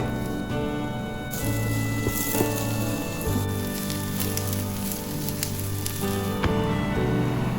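Potatoes and onions sizzle steadily in a frying pan, a dense, continuous crackle that stays close and fairly loud throughout, with faint tonal background sound and no talking.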